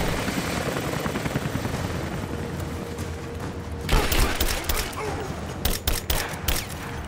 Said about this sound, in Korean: 뭐야 헬기까지 왔잖아